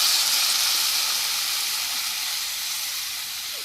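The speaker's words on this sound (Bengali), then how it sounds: "এটা এখন আমি জল দিয়ে দিচ্ছি পরিমাণ মতন" Water is poured into a pan of frying spices for a Bengali soybean and potato curry, raising a loud, steady steaming hiss and sizzle that slowly softens over a few seconds.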